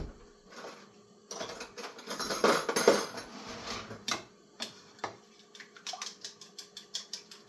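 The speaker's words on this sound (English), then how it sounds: "So I'm going to whisk that up right now." Eggs and yolk with salt, pepper and Parmesan whisked in a bowl, a run of quick clinking taps of the whisk against the bowl, close and fairly faint, after a short quiet start.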